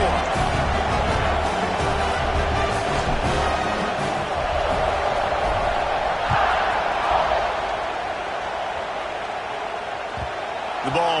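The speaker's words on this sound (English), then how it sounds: "this crowd is buzzing after that last score" A stadium crowd buzzes in a college football video game, a loud, steady wash of cheering that fills the background while a commentator talks over it almost continuously.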